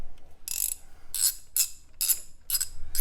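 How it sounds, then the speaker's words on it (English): A box wrench ratchets bolts loose on a Jeep JL Rubicon Dana 44 front axle, five bursts of quick metallic clicking separated by short pauses, close up with a low background hum. "go ahead and get an open or a closed end box wrench to go ahead and get those loose and get those out"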